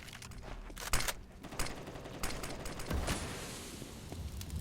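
Rapid bursts of gunfire in the video game CS:GO during a match on the Mirage map, sharp cracks clustered in volleys across the stretch, with an announcer's voice faintly underneath.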